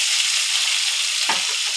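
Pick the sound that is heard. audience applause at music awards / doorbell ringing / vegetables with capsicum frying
vegetables with capsicum frying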